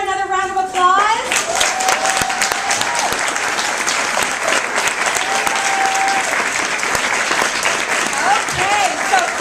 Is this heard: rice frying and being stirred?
no